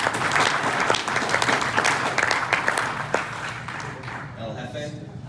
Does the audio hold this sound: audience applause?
yes